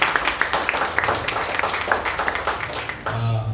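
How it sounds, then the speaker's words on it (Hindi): Church congregation at a Sunday evening service clapping to welcome the pastor, a quick run of moderately loud claps that fades as a voice and music begin near the end. "पास्टर मेलविन का हम लोग जोरदार तालियों से स्वागत करेंगे"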